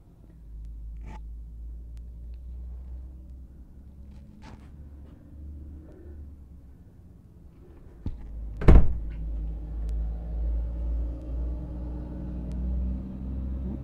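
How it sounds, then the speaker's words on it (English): Low steady rumble of road noise inside a moving 1974 Chrysler vehicle, a constant drone with a few light rattles and one sharp thunk partway through, no talking. "You hear all the road noise here."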